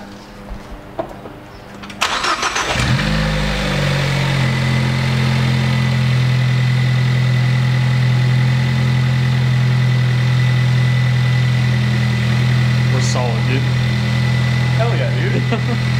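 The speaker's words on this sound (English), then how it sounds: "I'm gonna try to start up the car now." A Ford Focus ST, just fitted with a catch can, cranks and fires up after a couple of quiet seconds, then settles into a steady, close idle drone that continues to the end, with faint background sounds.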